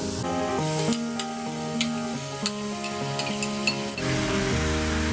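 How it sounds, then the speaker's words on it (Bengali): Mashed roasted eggplant goes into a hot pan for eggplant bharta and is stirred, with a steady frying hiss and light scraping clicks running under prominent background music. "এবার আমি এই বেগুন পোড়াটা যেটা মেখে রেখেছিলাম সেটা দিয়ে দেব।"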